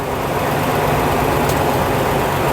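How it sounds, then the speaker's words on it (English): A large diesel engine of over 8 litres in a 1956 Daimler double-decker bus runs steadily with a deep, continuous rumble and low mechanical drone, close and fairly loud, with no voices. "the engine size is over 8 litres, so it's a big old lump of engine"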